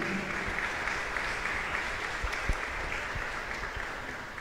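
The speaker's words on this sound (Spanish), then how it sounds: "Démosle un fuerte aplauso a ella." A congregation claps at a Catholic novena Mass for the Immaculate Conception in Galeras, a steady round of moderate applause lasting several seconds with a few sharper claps standing out.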